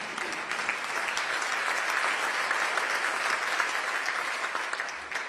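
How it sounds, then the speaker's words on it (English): A crowd claps at a Nikki Haley political speech, producing a thick, sustained wash of applause that stays loud and even throughout, with no one speaking over it. "I will let you clap at that because that is true."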